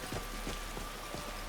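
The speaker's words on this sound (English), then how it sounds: "this is dangerous when it's raining and wet" Steady rain patters softly and evenly in a Skyrim mountain setting, a faint continuous hiss of drops with a few light taps mixed in, and no voices.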